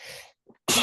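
A single sharp sneeze bursts out loudly at the end after a brief quiet pause, with a faint muffled sound just before it, in an indoor podcast setting.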